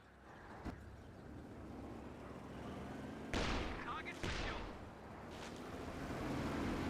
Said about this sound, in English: Good hits there by the 120mm mortars.